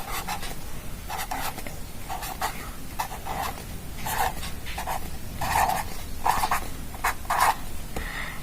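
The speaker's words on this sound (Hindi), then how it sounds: "देखिए 1 का टेबल लिख रही हूं मैं।" Pen or marker writing by hand on paper, steady scratchy strokes in short bursts with brief pauses between them, close and fairly clear over a constant background hiss.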